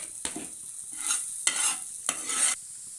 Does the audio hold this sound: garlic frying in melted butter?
yes